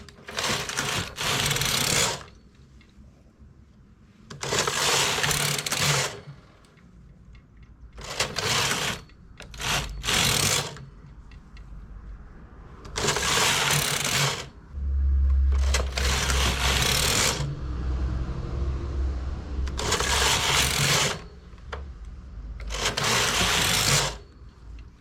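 A domestic knitting machine works a tuck stitch with an elongated stitch setting, the carriage making repeated loud rasping passes in bursts of about a second, separated by short quiet gaps and softer handling noises.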